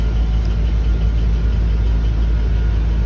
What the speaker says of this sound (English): I'm gonna crank up the car, turn on the AC.